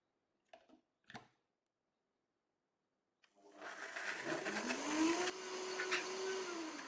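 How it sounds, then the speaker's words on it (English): A couple of faint clicks, a pause, then a blender whirs to life loudly, its motor pitch rising and shifting as it grinds a thick cashew mixture until smooth. "to get it off the sides of your blender and make it all smooth"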